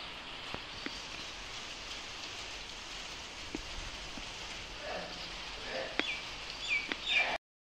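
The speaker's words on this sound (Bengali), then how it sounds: "এখনো বৃষ্টি পড়েই যাচ্ছে" Steady rain falls on a cloudy morning, a soft continuous hiss with scattered drops and a few faint bird chirps toward the end.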